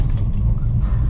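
Deep, steady rumbling idle of a Holden Torana muscle car engine, loud and close with a throaty low-end growl and no talk over it.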